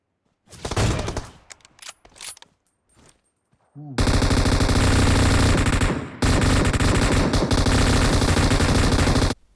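M249 machine gun fire in the mobile game PUBG Mobile: scattered bursts and single shots at first, then a long, loud, sustained automatic barrage with a brief pause before it resumes.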